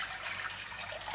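A steady stream of water pours into a pot of saffron vegetable rice with okra and pumpkin, a continuous close splashing hiss with no talking over it.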